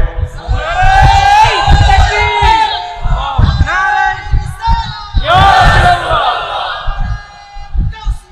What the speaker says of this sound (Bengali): জবান খুলে একটা তাকবীর হবে জোরে